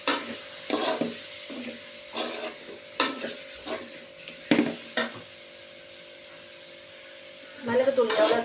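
Pepper chicken with ground black pepper stir-fried in a pan, a steady hiss of frying under repeated scraping strokes of a spatula, close, while a person talks over much of it.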